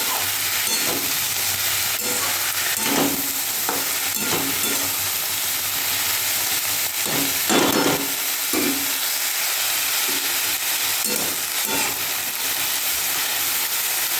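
Rice frying in a pan with green chillies and peas, a steady loud sizzle and hiss with repeated scraping stir strokes throughout.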